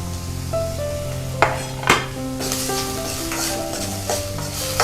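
Onion and chillies frying in a spoonful of oil for a South Indian appe tempering, with steady sizzle, a couple of sharp clinks of a utensil against the pan and stirring scrapes throughout.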